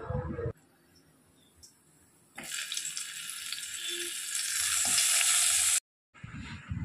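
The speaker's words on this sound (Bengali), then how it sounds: "এদিকে হচ্ছে পটল ভাজা বসিয়ে দিয়েছি" Slices of pointed gourd (potol) fry in a pan, giving a bright, steady sizzle that swells in the middle and cuts off abruptly. Quieter kitchen sounds come before and after, with no talking.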